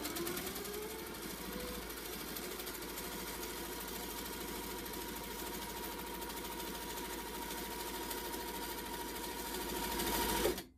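A sewing machine stitches steadily for free motion quilting, its needle running in a fast continuous chatter for about ten seconds, quiet and close, with no one speaking.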